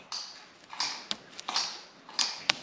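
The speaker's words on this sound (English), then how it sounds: "step on the pedal and it will spot weld it together." Spot welding of exhaust thermal heat-insulation material with a pedal-operated welder: about six short, sharp crackling snaps and hisses in quick, uneven succession, close and fairly loud.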